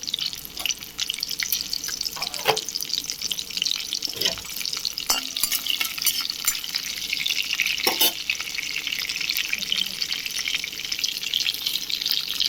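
Green and dried red chillies, mustard seeds, fenugreek, chana dal and cumin sizzle steadily in hot oil in a pan, a continuous crackling fry with a few sharper pops and stirring clinks, no voices.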